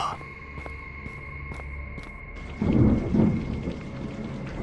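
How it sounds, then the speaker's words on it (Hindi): Heavy rain hisses steadily while a deep rumble of thunder rolls in partway through, swelling loud and then fading under the downpour. "बाहर तेज बारिश फिर से शुरू हो चुकी थी।"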